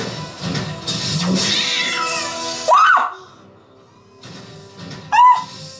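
A cat meows twice within a science-fiction TV drama scene, each short rising cry standing out loud and close against a busy background of music and effects, with a quieter gap between them.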